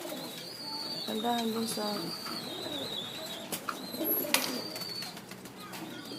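A breeder pigeon coos softly beside its young in a loft, the low cooing steady and fairly near. A brief flutter of wings and light chirps join in while people talk over the birds.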